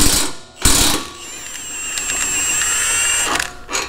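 An 18 mm socket on a ratchet wrench works a bolt on a Hummer H3, giving a close, continuous whirring ratchet sound with a couple of sharp knocks at the start and end, no talk.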